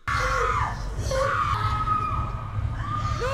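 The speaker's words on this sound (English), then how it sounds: "Everyone is screaming." A crowd screaming in a chaotic scene from the 2018 film Climax, continuous overlapping shrill cries and yells, loud and sustained throughout.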